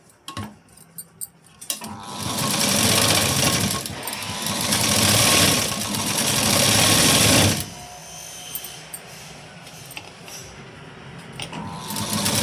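A sewing machine runs in two long sustained bursts of rapid stitching while sewing a four-tuck blouse, loud and close, with a brief pause between runs and quieter handling clicks before and after.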